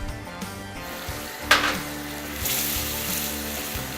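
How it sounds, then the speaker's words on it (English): Precooked chopped bacon and two pounds of shrimp sizzle steadily in a hot pan, a constant close crackling hiss with a brief clatter of a utensil or added ingredient partway through. "I'm going to throw our bacon in that we cooked ahead of time and chopped up."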